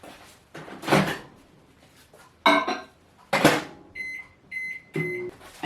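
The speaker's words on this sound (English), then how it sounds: "the microwave for 10 seconds," Kitchen clatter and a door thud, then a microwave keypad beeps in a quick series of electronic tones, setting it for 10 seconds.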